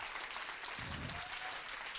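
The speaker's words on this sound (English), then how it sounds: "I'd like to give her a round of applause" An audience gives a round of applause at a talk, a steady continuous clapping wash heard at moderate level, without talk over it.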